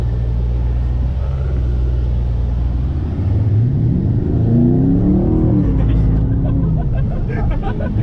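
A 1,000hp Mercedes E63s roars through donuts, its engine rising from a low idle rumble into rising and falling revs and sweeping throttle surges, loud and close, with voices talking over it.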